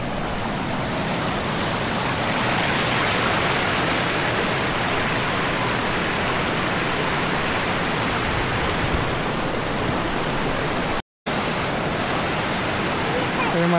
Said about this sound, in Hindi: अभी बारिश का दिन है इसलिए ये जो सामने दिख रहा है ये ओवरफ्लो हो रहा है